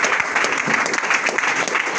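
A church congregation claps loudly and steadily during worship, a dense wash of applause filling the room, close and unbroken.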